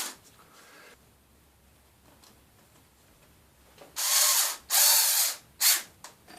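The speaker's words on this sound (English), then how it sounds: "Now it would be very easy to over tighten those screws, especially using a power screwdriver" A power screwdriver drives screws into an outdoor patio furniture piece in several loud whirring bursts of varying length near the end, after a quiet stretch of near silence.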